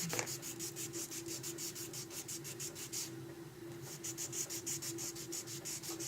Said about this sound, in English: So you just keep filing each nail